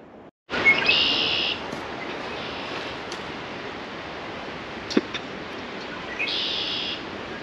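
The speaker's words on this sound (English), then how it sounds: "There's some bird song in the background. We've heard about this bird before. It's the red-winged blackbird." Outdoors in a forest in steady wind or rushing water, a red-winged blackbird's buzzy trilling song sounds twice, at the start and again near the end, with a faint click between.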